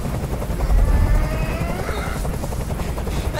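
A helicopter hovers close by in the game Detroit: Become Human, its rotor a loud continuous low chopping throb with a whining engine tone, no talking over it.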